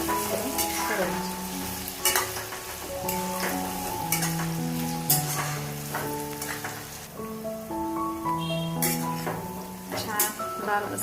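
Masala frying and being stirred in a pan for a bombil (Bombay duck) gravy, a steady close sizzle with scraping stirs and music playing over it throughout.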